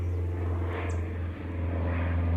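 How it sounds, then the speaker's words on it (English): A low propeller airplane passes overhead near a woodland cottage, its steady droning engine hum filling the scene at fairly loud level, briefly dipping before swelling again as it flies low. "there's planes flying over"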